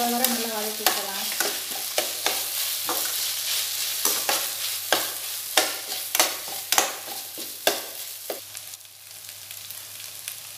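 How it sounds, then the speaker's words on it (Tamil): Onion and ginger-garlic paste sauté in a pan: a continuous sizzle under a run of distinct spatula knocks and scrapes against the pan, fairly close, tapering quieter near the end, with no talking. "வெங்காயம் வதங்கிருச்சு, இஞ்சி பூண்டு பேஸ்ட்டு சேர்த்துக்கிறேன். நல்லா பச்சை வாசனை போகிற வரை நல்லா வதக்கி வைக்கலாம்"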